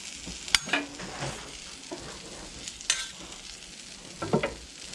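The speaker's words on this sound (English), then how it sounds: "I'm going to throw the meat on in the middle, kind of get this all out of the way" Beef frying on a Blackstone griddle for Philly cheesesteak gives a quiet steady sizzle, broken by a few sharp scrapes and clicks of a spatula stirring the meat.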